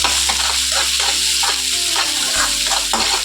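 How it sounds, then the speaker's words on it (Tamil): Tomatoes with carrots and onions sautéing in a pan, a loud continuous sizzle and fry with rhythmic scraping stirs throughout, close up, no voices. "தக்காளியை போட்டு கொஞ்சம் நல்லா வதக்குவோம்"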